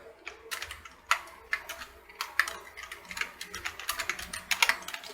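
Someone types Python code on a computer keyboard, a steady run of quick, close clicking keystrokes with irregular rhythm and a few sharper taps, heard alone without talk.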